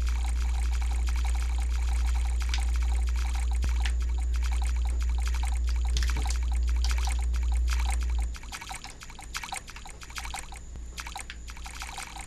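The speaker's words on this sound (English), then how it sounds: "it sounds like I'm squishing water" Wet squelching and trickling water sounds repeat over a steady low hum, like something moving through shallow liquid; the hum drops away near the end. A character squishes through water in the video game Evolution 2: Fighting4Survival.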